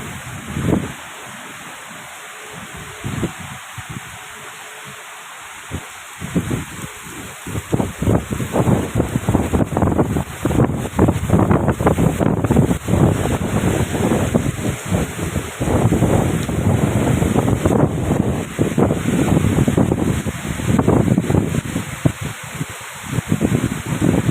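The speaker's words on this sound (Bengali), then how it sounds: "এটা টোটালটাই বৃষ্টি পড়ছে" Heavy rain pours steadily, a dense broadband wash that starts quieter and swells into a loud, continuous downpour with crackling bursts, rising in intensity toward the end.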